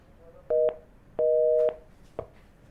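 Electronic telephone disconnected tones sound alone after a caller's line drops: a short beep, a longer steady tone, then a faint click, clean and close.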